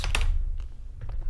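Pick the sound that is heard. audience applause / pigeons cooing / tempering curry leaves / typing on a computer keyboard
typing on a computer keyboard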